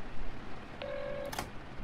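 Telephone dialing tones as a call is placed: one short steady keypad tone followed by a quick brighter burst, faint against quiet background noise.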